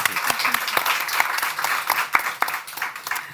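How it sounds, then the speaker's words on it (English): An audience applauds panelists at the close of a fashion sustainability event in a club, a steady wash of many hands clapping near and loud for the full stretch. "Please join me in giving a round of applause to our panelists"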